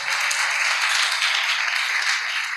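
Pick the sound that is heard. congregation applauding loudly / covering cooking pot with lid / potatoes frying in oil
congregation applauding loudly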